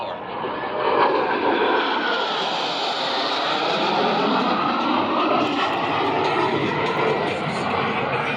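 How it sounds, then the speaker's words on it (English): Blue Angels jets, numbers 5 and 6, roaring past the flight line of the Terre Haute air show at about 400 miles per hour, a loud sustained jet rush that swells and holds, with an announcer speaking over it. "Blue Angels 5 and 6 are approaching the flight line at 400 miles per hour."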